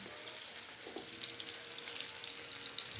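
Eggplant omelet, tortang talong, fries in a pan over high heat, giving a steady, faint, even sizzle throughout with no talk.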